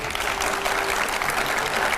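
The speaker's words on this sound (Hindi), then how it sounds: "जोरदार तालियां उनके लिए" A television studio audience gives strong applause to a panel of editors on a Hindi news debate show, with even, continuous clapping throughout and no talking over it.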